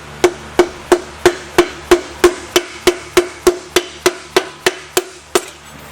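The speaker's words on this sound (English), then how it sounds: "you hammer it down with that" A dead blow hammer taps a piston down into an engine cylinder during an engine build, about sixteen evenly spaced, sharp knocks in a steady rhythm, close and loud with no talking.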